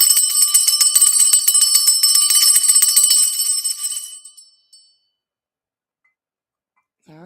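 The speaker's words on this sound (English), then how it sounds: "let me go ahead and ring my bell and cleanse the energy" A bell is rung repeatedly in a bright, sustained ringing that fades out after about four seconds, leaving silence.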